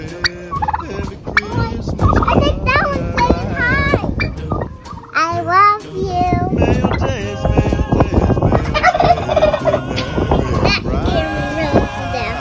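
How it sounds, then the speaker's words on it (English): Several turkeys kept as Christmas pets gobble loudly and repeatedly right up close, their warbling calls overlapping in busy bursts while people talk and children's voices mix in. "Turkeys for Christmas."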